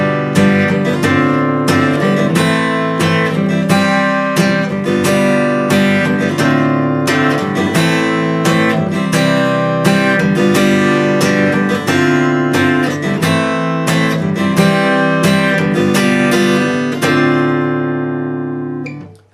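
An electric guitar strums chorus chords in a steady, continuous rhythm, loud and close with no talking, fading out at the very end.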